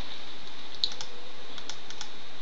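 Light computer keyboard key presses while working in the Warcraft III editor, a handful of soft quick clicks over a steady background hiss, with no talking.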